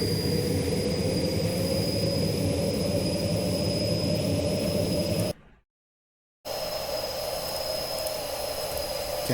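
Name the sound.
aircraft jet engine in Unity game scene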